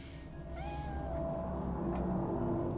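A cat in the Cyberpunk 2077 video game gives a single short meow that rises and falls, heard near over a low, steady ambient hum of background game music.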